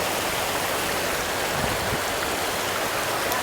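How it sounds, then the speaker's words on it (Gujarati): Narmada water flowing from a spring at Omkareshwar makes a constant, dense rushing hiss, close and even throughout, with no voices. "પાણી ભરવાનું છે આ ઝાણામાંથી નર્મદાનું ડાયરેક્ટ ચોખ્ખ પાણી"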